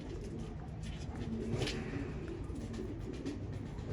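Racing pigeons cooing softly inside a rooftop loft, low murmuring coos with faint rustling, quiet and close, with no talk over them.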